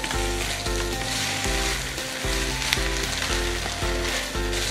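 Noodles fry with a steady loud sizzle while being stirred in a small Teflon-coated aluminium mess tin over a camp stove, under a rhythmic thumping beat of background music.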